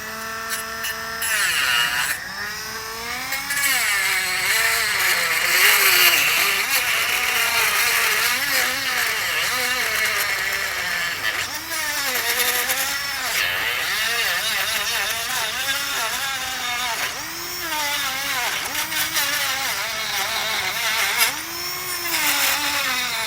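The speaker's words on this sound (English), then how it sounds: "I'm going to use a cordless Dremel tool here. I'm going to cut the front face off of this" A cordless Dremel rotary tool cutting the front face off a part on a 2017 Chevrolet Sonic, giving a steady high-pitched whine with wavering pitch that runs continuously and loudly throughout.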